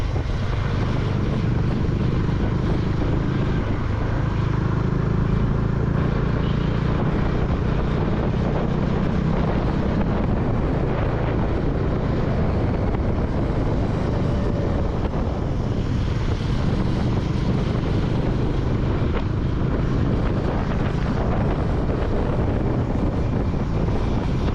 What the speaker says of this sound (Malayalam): ഇങ്ങനെ കാറ്റൊക്കെ കൊണ്ട് ഇങ്ങനെ ബൈക്കിൽ നമ്മളെ ഇഷ്ടത്തിന് നമുക്ക് ഇങ്ങനെ ഓടിച്ചു പോകാമെന്നതാണ്